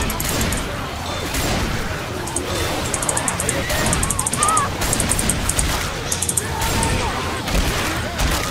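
Continuous gunfire in Left 4 Dead 2 as zombies are mowed down, with rapid repeated shots and crackling bursts throughout, loud and dense, with players talking over the shooting.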